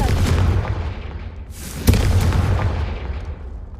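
A spell-cast explosion in Hogwarts Legacy: a loud booming blast with a sharp crack at its peak, rumbling and decaying over a few seconds, with no talk over it.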